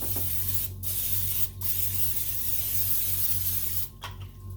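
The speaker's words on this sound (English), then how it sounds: "So I just give it a quick spray and then I season it with salt and pepper." Three short hissing bursts of an olive oil cooking spray, about a second apart, with a steady low hum underneath.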